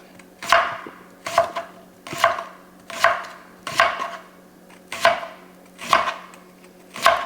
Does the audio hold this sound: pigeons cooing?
no